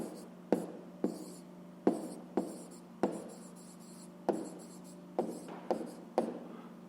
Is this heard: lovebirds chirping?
no